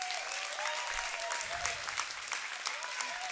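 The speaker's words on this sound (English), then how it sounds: "please just give a round of applause for the MOI and WI that did this" Guests at a Thanksgiving dinner applaud together, a steady wash of clapping from a crowd indoors, fairly soft, with a voice faintly audible underneath.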